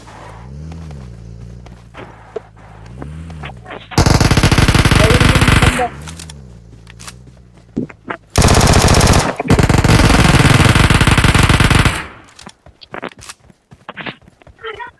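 Bursts of loud automatic gunfire in PUBG Mobile, two long, dense volleys with sharp single shots around them, over engine-like hum and footsteps, with faint voices in between.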